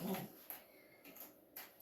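Several dogs whimper and whine indoors in short, faint bursts that come back again and again, with no one talking over them.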